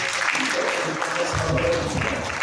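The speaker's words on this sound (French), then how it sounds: "Donc je demande une fois de plus vraiment d'applaudir." Audience applause at a ceremony unveiling the FESPACO 2025 festival visual, dense continuous clapping filling the room with voices mixed in.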